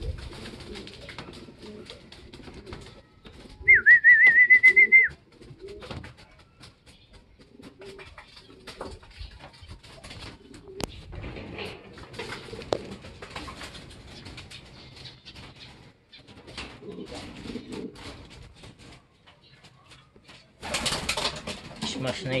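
Racing pigeons coo near the loft during a 50 km smash toss in Pagsanjan. A single clear coo stands out early and fainter soft calls are scattered through the rest. Quiet outdoor rustle and a burst of noise near the end.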